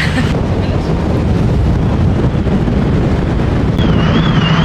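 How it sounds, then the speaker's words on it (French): Strong wind buffets the microphone on a ferry deck crossing from mainland Scotland to the Orkney Islands, a steady loud roar with engine rumble beneath and no voices. "Il y a assez de vent sur le ferry, ça décoiffe"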